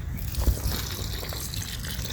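Rainwater trickles and gurgles steadily from a gravity-fed rain barrel system in a community garden, a continuous close, moderately loud flow with no talk.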